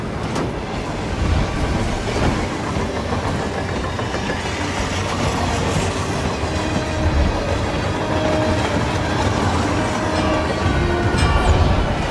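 Steady rolling rumble of a train running on rails in the stealth video game Hitman 3, a continuous dense low-frequency drone with faint clattering, moderately loud and constant throughout, with no talking.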